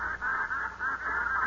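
Honking duck calls from a radio drama sound effect, close and loud, as a dense flock's continuous quacking and honking pulses over about a second and a half with no voices.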